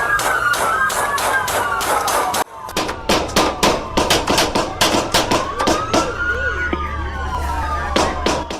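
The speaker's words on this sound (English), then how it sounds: "A shootout followed, captured on Bodycam." Rapid gunfire in a police bodycam shootout, sharp loud cracks in irregular bursts, with a siren wailing underneath and a brief break partway through.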